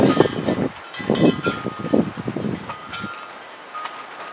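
Wind blowing outdoors: gusty rumbling buffets against the microphone in uneven bursts for about three seconds, then easing to a thinner, quieter rush.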